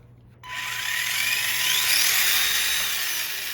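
A small electric motor in a Tamiya Grasshopper RC car, a Titan 550, whines up to a high, steady buzzing spin after a quiet start, holding its pitch close by for a few seconds as it spins the wheels.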